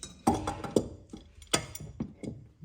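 Wrenches tightening the rear camber arm shaft on a Honda CB7 with Hardrace parts, a few close metallic ratcheting clicks and clinks spaced irregularly, quiet, no talking.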